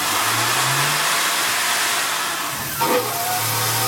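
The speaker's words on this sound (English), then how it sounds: "doing some facing passes using constant surface speed, and you'll hear the speed increase as it gets towards the centre" A CNC lathe's motor whirs steadily with a broadband hiss of cutting during facing passes, its tone gradually rising in pitch as the spindle speeds up toward the centre.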